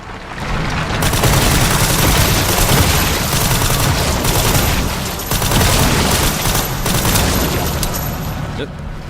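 Sustained gunfire in Resident Evil 9 as orbs are shot during the final boss fight, dense rapid shots and booms forming a loud, continuous barrage with game effects mixed in.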